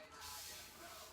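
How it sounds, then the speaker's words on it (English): Water spray bottle misting stain, a single continuous hissing spray burst lasting about a second, close and fairly soft with no talk over it. "It's like a spray paint water bottle."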